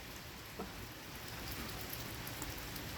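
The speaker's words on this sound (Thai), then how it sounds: "ฝนก็ตก ฝนตกตก" Steady rain falls continuously, a soft even hiss with occasional drops pattering close by.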